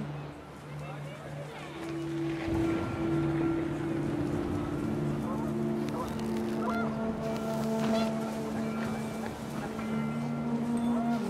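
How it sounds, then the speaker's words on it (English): Panicked geese honk amid gusting wind in What Remains of Edith Finch, several birds calling in overlapping cries over a steady outdoor wind bed at moderate distance. "The wind picked up, and panicked geese appeared and quickly went."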